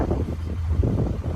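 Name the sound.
wind blowing on street in Ottawa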